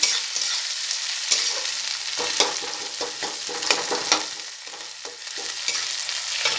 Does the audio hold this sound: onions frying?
yes